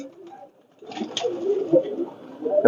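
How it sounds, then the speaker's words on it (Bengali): Pakistani pigeons coo softly nearby, several low throaty burbling calls overlapping, with a short pause near the start and a faint wing flutter. "এখানে প্রচুর পাকিস্তানি কবুতর আছে"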